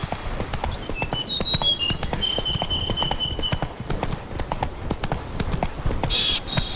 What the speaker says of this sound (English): Wait, another horse sound?